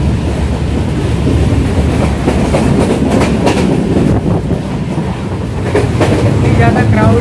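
The Avadh Assam Express 15646, running from Dibrugarh to Mumbai LTT with a crowded general-class coach, gives a steady close rumble and rhythmic wheel clatter that continues without a break.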